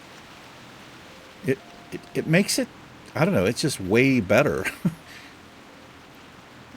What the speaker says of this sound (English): Look at the rain come down.